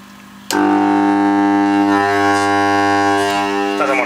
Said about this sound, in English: Just plug this little wash machine motor in.